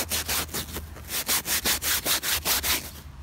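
Rhythmic rubbing strokes on the freshly painted wooden handle of a 1938 rocking chair being restored, a steady back-and-forth scraping of about a dozen close, even passes.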